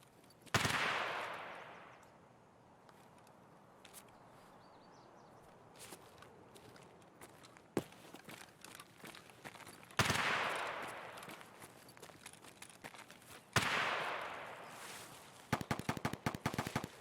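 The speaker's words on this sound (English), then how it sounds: "Are they shooting at me?" Gunfire in the game Escape from Tarkov: several sharp shots and short bursts crack out at intervals, some loud and close with decaying echoes, others quicker and rattling, with a few quiet footsteps between them.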